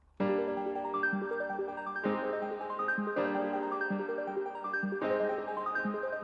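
Looping trap beat with a melodic piano chord progression doubled one octave lower, giving a fuller low range; steady, loud and continuous, repeating roughly every two seconds with no talking.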